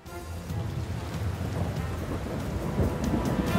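A thunderstorm with steady rain drumming on a surface and low rolling thunder underneath, continuous and fairly loud, with no voices.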